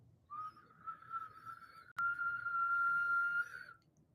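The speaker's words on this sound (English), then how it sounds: "Inhale through the mouth with a long, even whistle" A long, steady whistle drawn in through the mouth during a yoga breathing exercise, clear and close, with a brief break in the middle before it resumes and fades out.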